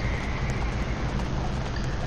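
Steady hoof clip-clop from a horse in a Roblox video game over a constant, dense background hiss, the hoofbeats soft and regular without any talk.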